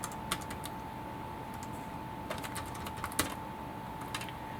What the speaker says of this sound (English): I'm typing through my Raspberry Pi 400